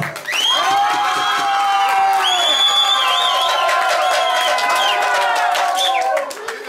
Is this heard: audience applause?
yes